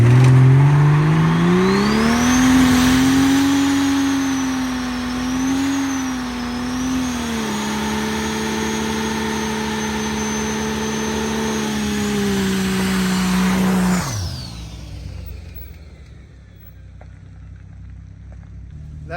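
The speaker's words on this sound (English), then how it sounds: "That's how you do a burnout in an XJ." A high-mileage Jeep Cherokee XJ doing a burnout: the engine revs hard and holds a loud, wavering high-rpm drone with tire whine for about fourteen seconds, then drops off sharply to near quiet.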